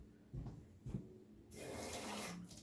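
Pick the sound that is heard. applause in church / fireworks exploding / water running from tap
water running from tap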